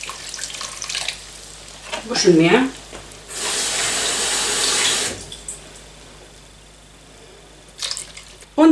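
Water gushes from a tap for about two seconds, a steady rushing hiss, with brief speech before and after.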